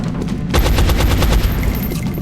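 Rapid gunfire from the video game XCOM: Enemy Unknown, a loud close burst of rattling shots starting after a short lull and continuing in a quick, even stream.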